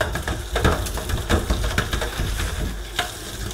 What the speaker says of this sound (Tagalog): magluluto ng ginulayan na pritong isda